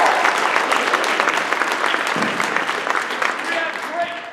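An audience at a school play of Androcles and the Lion claps for the music teacher, a dense, steady round of applause lasting several seconds and tapering slightly toward the end.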